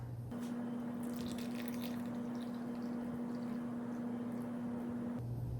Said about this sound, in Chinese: 放到碗里，用开水烫一下